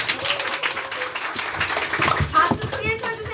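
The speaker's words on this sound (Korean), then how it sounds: "박수 크게 쳐주세요." Group clapping at a motivational team rally, bursts of hand claps mixed with cheering voices and talk, moderately loud throughout.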